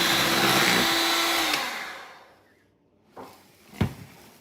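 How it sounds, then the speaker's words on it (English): An electric mixer whirs loudly as it beats coconut whipped cream toward stiff peaks, a steady motor roar that fades out around halfway, followed by a couple of short knocks and clatters. "I'm going to use my electric mixer again and beat this up until stiff peak forms"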